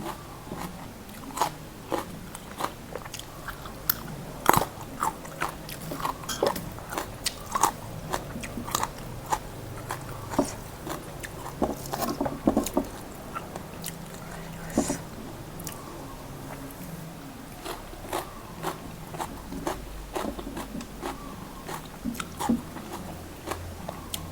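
Close, steady chewing and crunchy bites of spicy canned fish salad with shallots over rice, a continuous run of wet munching and sharp crunches with no talking.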